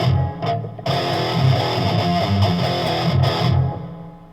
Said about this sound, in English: Let's do this with some distortion.